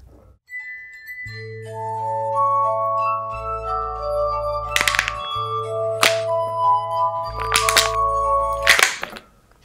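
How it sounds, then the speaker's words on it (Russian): Wine glasses played as a glass harp at a student talent casting, with sustained pure ringing tones layered into chords, interrupted by several sharp bright clinks of glass, close and loud. "забытый жанр игры на бокалах"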